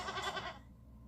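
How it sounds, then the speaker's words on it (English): Goats bleating in a television advert, a couple of quick close bleats in the first half second before fading out. "What's with all the goats?"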